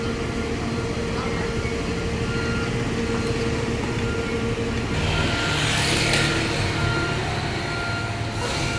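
A Florida bus pulls into a terminal in Caloocan City, its engine giving a steady, loud rumble and hiss against busy street noise, with a brief louder surge partway through and people talking nearby.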